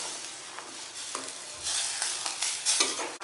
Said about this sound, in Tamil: முட்டையும் மசாலாவோடு சேர்த்து நல்லா வேகட்டும்